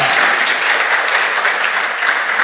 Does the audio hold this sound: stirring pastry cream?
no